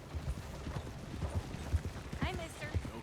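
Horse hooves clip-clopping in the video game Red Dead Redemption 2, a quick steady run of close hoofbeats throughout, with a short voice line partway through.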